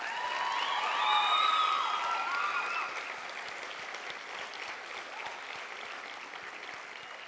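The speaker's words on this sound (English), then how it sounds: "Can we please give her one more really big round of applause?" An audience at a 2019 county scholarship pageant gives a big round of applause, dense clapping swelling over the first seconds and then easing to a lighter, steady patter, with faint tones ringing through the hall.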